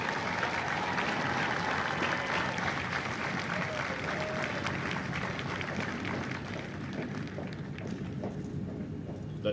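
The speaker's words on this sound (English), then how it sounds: "please join me in a round of applause for the company staff of Company D" A large crowd claps for the Company D staff at a Delta Company Marine recruit graduation ceremony at MCRD San Diego. The sustained applause rises and fades slightly over several seconds, with some voices in the crowd.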